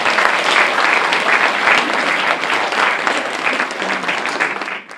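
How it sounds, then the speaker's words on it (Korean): Sustained applause from a large audience at a Confucian association inauguration ceremony in Gwangju, a dense steady wash of clapping for about five seconds that cuts off sharply at the end. "큰 박수 부탁드립니다."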